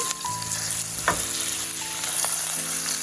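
Chicken biryani spices sizzle and fry loudly in a pot, a dense steady crackle with a sharp metallic clink as a spoon stirs, a brief beep-like tone and no voices.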